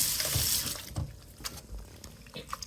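Water drains and trickles from salted kachumbari as it is squeezed by hand, with brief splashy bursts and wet handling noises close by, fairly quiet and without talk.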